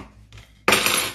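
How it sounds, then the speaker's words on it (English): A spoon stirs food in a pot, first with a soft scrape and then a sudden, louder scraping clatter of metal against the pot that lasts about half a second. "just give it a bit of a stir"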